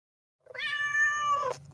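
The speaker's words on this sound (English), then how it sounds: "That is a cat." A single clear cat meow, drawn out and tonal, rising in at the start and cutting off after about a second, close and alone against silence.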